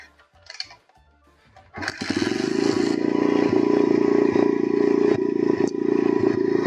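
A small motorcycle engine kick-started during reassembly after fork and ignition coil work, catching abruptly after a few scuffs and settling into a loud, steady, close idle with a rhythmic mechanical clatter.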